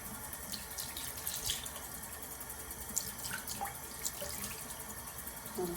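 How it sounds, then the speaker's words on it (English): Tap water runs steadily over hands and natural black hair during hair styling. The splashing is close, continuous and fairly quiet, with small drips and spatters and no talking. "So I have the water running."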